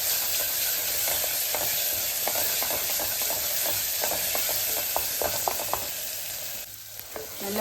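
Ginger-garlic paste and masala sizzle steadily in a hot pan for a kadalai curry, with repeated scraping strokes of a spoon stirring through the mixture, close and fairly loud, a faint tonal hum running underneath.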